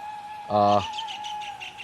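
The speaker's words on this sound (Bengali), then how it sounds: "পাখির কিচিমিচি" Birds chirp steadily beside a village road in Muradnagar, with one loud nearby call sounding briefly over a sustained tonal whistle and softer repeated tweets in the background.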